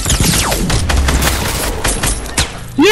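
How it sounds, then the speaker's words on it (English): Shotgun fire in the Fortnite video game, a few heavy close blasts with booming tails in quick succession, loud, ending in a brief rising electronic tone. "He's gonna shotgun me!"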